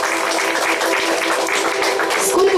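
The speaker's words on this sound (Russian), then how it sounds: "Давайте поддержим наших молодых аплодисментами." Wedding guests at an off-site marriage registration in a restaurant applaud the newlyweds, with a continuous wash of clapping and voices murmuring underneath.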